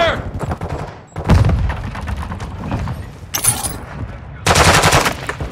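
Rapid automatic gunfire in the video game Call of Duty MW2: dense bursts of close rifle fire with sharp impacts and a glassy crash, loud and nearly continuous, with faint voices mixed in.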